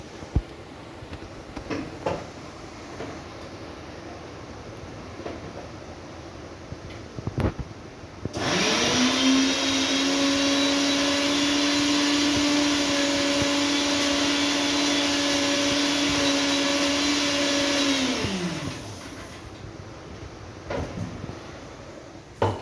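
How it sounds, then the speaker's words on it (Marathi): A kitchen mixer grinder whirs loudly with a steady motor drone for about ten seconds while grinding ginger-garlic paste, starting and stopping abruptly between quieter kitchen handling sounds. "तर तुम्ही बघू शकता, हे मिक्सरला मी फिरवलेलं आहे."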